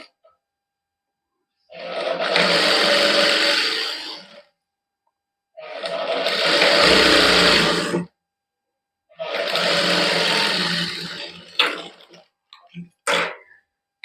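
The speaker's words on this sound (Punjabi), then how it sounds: "ਇਹਦੇ ਉੱਪਰ ਆਪਾਂ ਕੱਚੀ ਸਿਲਾਈ ਲਾ ਦਿੰਦੇ" Sewing machine stitching lace onto a printed cotton suit, running in three steady whirring bursts of a few seconds each with pauses between, followed by a couple of short clicks as it stops.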